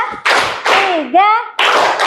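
A class of schoolchildren claps hands together in a counting clap game, with several short, loud bursts of group clapping separated by brief pauses and a teacher's voice between them.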